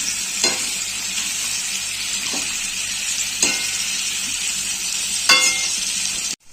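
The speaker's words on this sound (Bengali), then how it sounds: "ক্যাপসিকামটা আলুর সাথেই ভেজে নেব, তার সাথেই ভাজা হয়ে যাবে" Potatoes and capsicum frying in a pan give a continuous close sizzle, broken by a few sharp scrapes of stirring at intervals, with no talking.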